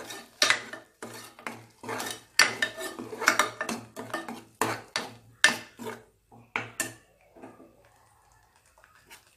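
A spoon stirs cashew paste into paneer butter masala in a pan, giving a quick run of close scraping and clinking strokes against the metal that slows and fades toward the end, with no talk.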